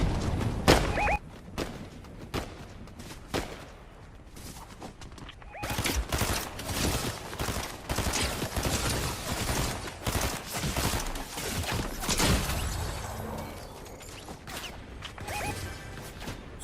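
Gunfire in a Fortnite match: dense bursts of rapid shots and impacts crowd the scene in loud, overlapping volleys, with brief lulls between exchanges.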